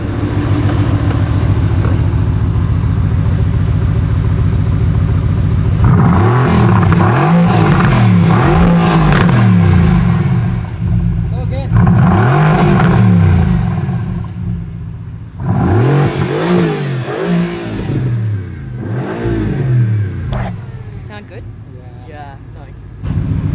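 Mercedes-AMG GT R Pro sports car engine with the exhaust valves open, idling with a deep rumble and then revved hard three times in loud, swelling bursts, close to the listener, with a voice talking briefly near the end.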